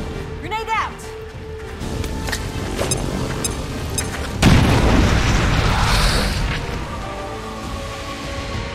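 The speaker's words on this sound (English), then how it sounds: "Grenade out!" A grenade detonates in the XCOM: Chimera Squad video game, one loud, booming blast about midway that decays slowly, after earlier sharp pops and synthetic tones, with voices calling out around it.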